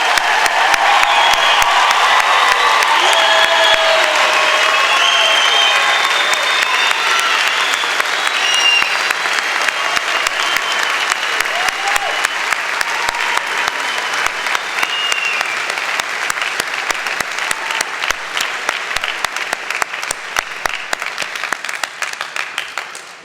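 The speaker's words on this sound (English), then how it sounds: "join me in acknowledging the graduating class 2016!" A large crowd at a graduation ceremony breaks into loud, sustained applause with some cheering and whoops, the clapping thinning gradually toward the end.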